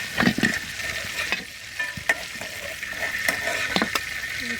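Chicken pieces frying in hot oil in a pan, a loud continuous sizzle broken by several sharp scrapes and clinks of stirring, with no talking.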